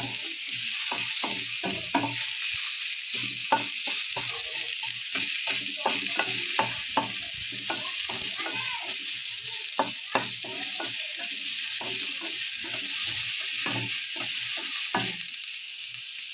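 Onions frying in oil for a bhetki fish dish while a spatula stirs them, with rhythmic scraping strokes over a constant loud sizzle and no voices.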